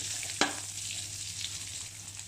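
Pork belly frying in its own rendered fat, a soft continuous sizzle with one brief clatter of a utensil near the start, quiet and close with no talking.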